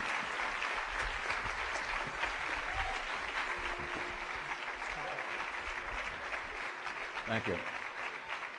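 Audience applause welcoming a psychiatrist to a religion course lecture, a steady, dense clapping that fills the room throughout, with a brief spoken thanks near the end.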